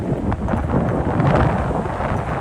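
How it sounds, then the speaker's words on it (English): Strong wind buffets the microphone in Lower Manhattan, a loud, continuous rumbling roar that swells and gusts throughout, with no talking. "It's exciting when the wind gets like this."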